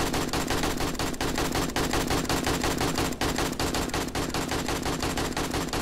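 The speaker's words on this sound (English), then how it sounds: "You're shooting inside." Rapid automatic gunfire fires inside a building in the game 7 Days to Die, a dense continuous stream of loud close shots with brief gaps, no talking.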